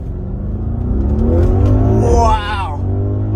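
An Audi RS Q8 engine revs at full throttle, a loud rising roar that climbs steadily in pitch and then drops as the revs fall, with a brief vocal exclamation mixed in.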